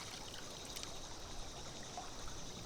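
Water trickles steadily out of a hollow geode in a steady, faint, close dribble with a constant hiss-like flow and no talking.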